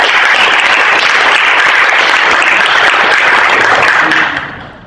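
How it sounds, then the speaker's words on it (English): At a sustainability showcase event, the audience claps loudly in a thick, continuous burst that holds steady for about four seconds, then fades quickly to quiet. "Can we give another round of applause for"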